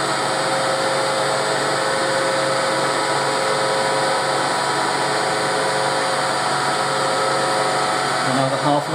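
A metal lathe turns steel while a clutch tool is machined, giving a steady whirring drone with a constant mechanical hum, close and fairly loud throughout, and no clear talking.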